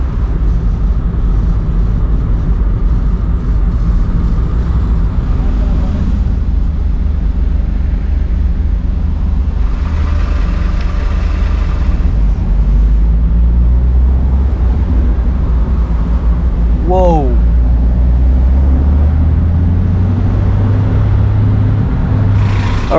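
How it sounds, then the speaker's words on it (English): A Toyota KP30 fitted with a 4K engine idles and then pulls away, giving a steady low rumble that swells and shifts as it drives off. One brief exclamation is heard over the engine. "So it's time to start this car and let's go to the shop."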